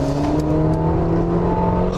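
Mercedes-Benz GLB/GLA with a 224-horsepower engine accelerating, heard from inside as a steady, droning engine hum with a smooth rising tone, moderately loud and unbroken for two seconds.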